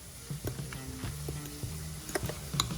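Chicken taquitos frying in a pan give a steady, close sizzle, with a few sharper crackles and pops scattered on top and no talking.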